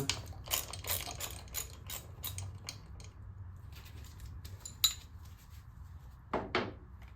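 Three Torx screws being undone on the carburetor of a 1993 Harley-Davidson Softail: quiet metallic ratcheting clicks and small tool taps in bursts, with a sharper clink near the end, no talking.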